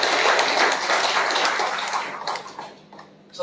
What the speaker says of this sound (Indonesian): yang setuju tepuk tangan bagi Allah